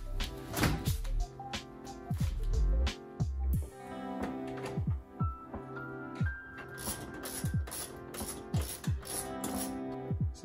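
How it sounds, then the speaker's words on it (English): Screws being backed out of dashboard side panels on a Honda Civic during dash and HVAC removal, a quick series of close ratcheting clicks and small metallic knocks repeating through the stretch with no talk. "take those screws out, take these side screws out"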